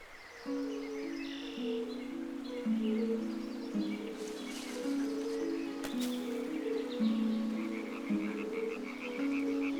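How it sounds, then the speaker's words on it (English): Toads calling from a nearby pond in the Carpathians during summer courtship season: a dense, steady chorus of croaking trills that runs unbroken through the whole stretch, fairly close and with no talk over it. "Summer means toad courtship season is in full swing."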